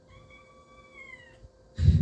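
A kitten meowing indoors, one clear drawn-out meow close to the microphone, followed by a sudden burst of rustling noise at the end.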